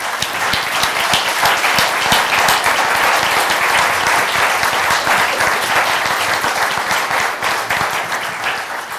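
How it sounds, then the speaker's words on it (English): A hall audience at a school board candidate forum claps steadily and loudly, dense applause sustained for several seconds without a break. "Let's give them all a round of applause."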